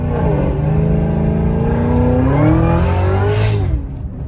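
An 800 hp cammed Cadillac CTS-V on slicks pulls hard, its loud engine note climbing steadily in pitch through the gear before easing off near the end, heard from inside the car with no talking.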